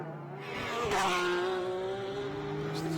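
A GT race car throttles up after a drive-through penalty at Las Vegas Motor Speedway, its engine note rising and holding strong, with a brief rushing burst near the start.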